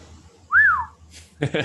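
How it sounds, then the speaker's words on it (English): A single short rising-and-falling whistle, blown loud and close to the microphone, followed by a brief bit of speech. "Didn't want to whistle right into the microphone"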